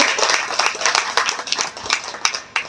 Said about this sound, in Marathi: ज्यांनी सुंदर असं सूत्रसंचालन केलं त्या सरांसाठी एकदा जोरदार टाळ्या झाल्या पाहिजे